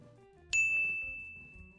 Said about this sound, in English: Here's the dinger bell.